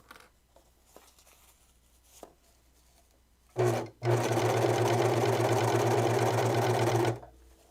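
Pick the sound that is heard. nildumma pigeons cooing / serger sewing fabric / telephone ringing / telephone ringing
serger sewing fabric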